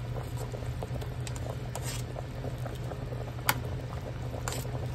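Water bubbles and pops at a gentle boil in a pot before pressure cooking, soft irregular patters with an occasional louder plop over a low steady hum.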